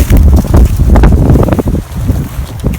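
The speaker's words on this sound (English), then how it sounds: "It's windy." Strong gusty wind buffets the microphone, a loud rumbling roar with rustling that rises and falls throughout.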